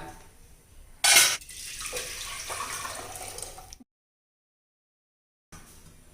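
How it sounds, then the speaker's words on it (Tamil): Water pours into a cooking pot in a steady rushing stream for a few seconds, starting with a louder splash, then stops abruptly into silence. "கொஞ்சம் தண்ணி ஊற்றிக்கலாம்"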